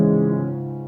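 Piano chords from bar 5 of Beethoven's Moonlight Sonata, first movement, with a low, warm chord ringing and slowly decaying over under a second, close and alone.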